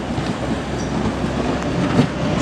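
Passenger train at Manchester Piccadilly station, the Cleethorpes to Manchester Airport service, giving a steady broadband rumble of a train moving through the platform, loud and continuous, with no speech.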